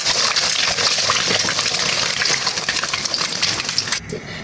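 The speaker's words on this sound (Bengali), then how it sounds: "এবার আমি ডিমগুলোকে হাফ করে মতো ভেজে নেব" Eggs frying in hot oil for a tomato-egg dish, a dense, loud, continuous crackling sizzle that holds steady throughout, then suddenly softens near the end; no voice.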